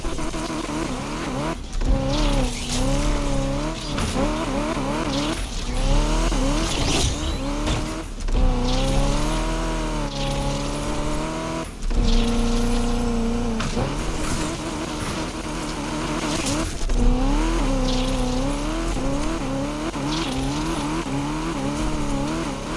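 Car drifting in the Need for Speed Unbound racing game, driven with a racing wheel: loud, continuous engine whine rising and falling through gear changes, with tire squeal as the car slides, filling the whole stretch without talk.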